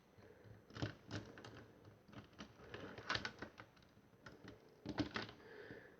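Lego Transformers propeller pieces folded into place on a Dropkick triple changer model, a series of small, light plastic clicks and snaps in irregular bursts, close up and faint.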